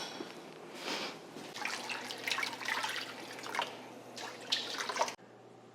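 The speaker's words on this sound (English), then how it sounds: "I'm gonna need to get a little bit more water in here" Water pours in uneven splashing bursts into a large metal canning pot holding jars of peppers, close and moderately loud, then cuts off near the end.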